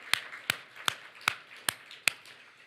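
Six sharp, evenly spaced claps ring out at a church worship service, each a crisp isolated snap about half a second apart, fairly quiet against a hushed background.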